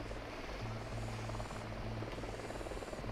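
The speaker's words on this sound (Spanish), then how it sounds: "Un helicóptero, que no os vea." A helicopter flies in the video game Ghost Recon Wildlands, a continuous rotor drone with a low rhythmic chop and broadband whoosh, steady and moderately near throughout with no voices.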